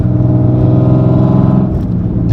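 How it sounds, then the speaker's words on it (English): Single-turbo Nissan 350Z engine droning loudly and steadily at close range, a low rumbling exhaust tone that dips and shifts near the end as the turbo spools. "I'm going to get you guys a quick little turbo spool"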